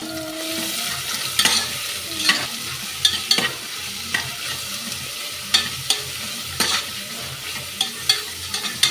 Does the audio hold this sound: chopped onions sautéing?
yes